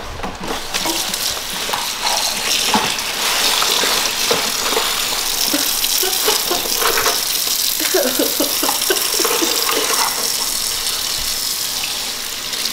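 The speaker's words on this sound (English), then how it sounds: "run some warm, some hot water on them some so hot water" Hot water gushes from a tap over live crabs in a kitchen sink, a loud, steady rushing spray with shifting splashes and clatter for several seconds.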